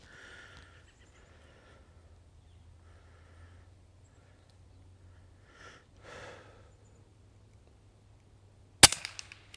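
A single sharp crack from an Umarex Notos PCP air rifle going off outdoors, loud and close, followed by a few quick fading ticks after long near-silence that holds soft breathing and sniffs.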